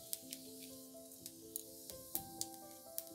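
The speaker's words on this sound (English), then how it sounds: "And now it's time to put the whole jeera or cumin" Whole cumin seeds (jeera) frying in hot oil in a kadai give off faint, sparse crackles and small pops at an uneven rhythm beneath a steady tonal background hum.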